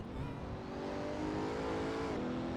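An Audi R8 drives just ahead on a track, its engine a steady, loud droning roar with a slight pitch shift near the end as it passes, heard alone without talk.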